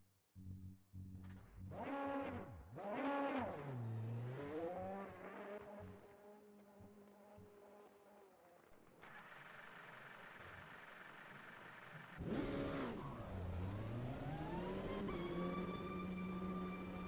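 LMP2 race car engine in the Automobilista 2 racing game, revving up and down in repeated sweeping pitches with a buzzy tone, then a higher steady drone and another rising rev, heard alone with no talk.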